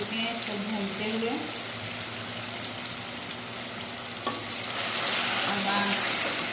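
Green chicken karahi sautéing in a pan gives a steady, close broadband sizzle that runs throughout, growing a little louder near the end, with faint stirring scrapes and a soft voice in the background.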